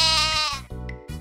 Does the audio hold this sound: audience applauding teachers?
no